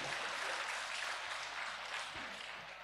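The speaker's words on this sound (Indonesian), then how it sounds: "Tepuk tangan untuk yang tidak mendapat upah ini ya." An audience at a parish gathering on administration and financial reporting claps in steady, sustained applause that sounds fairly soft and distant throughout, with no one speaking over it.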